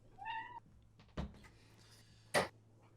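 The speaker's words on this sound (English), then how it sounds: "The cat meows as the dart finds the treble" A domestic cat gives one short, clear meow close by in a quiet room during a darts match broadcast, followed by two sharp thuds of darts striking the board, with no talking.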